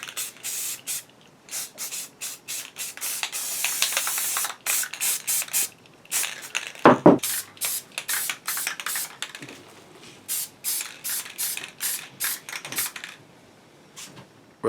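Rust-Oleum matte clear coat sprayed from an aerosol can onto a replica Grail shield from Indiana Jones, in a run of short hissing bursts with brief pauses, close by and fairly loud, no voices.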